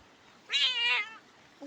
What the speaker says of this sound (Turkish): Canını mı acıttınız kedinin?